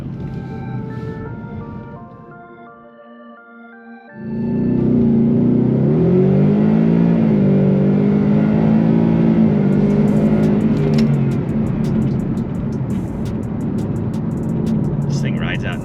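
A supercharged 2018 Mustang GT engine climbs from a low idle into a loud, sustained rev with rising and falling pitch, heard up close from inside the car while cruising.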